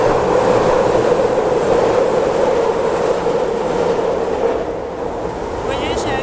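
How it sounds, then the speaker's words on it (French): Paris-style metro train rushing past in a station, a loud continuous roaring rumble that holds steady and then eases slightly near the end, with no clear talk over it. "Et attention métro."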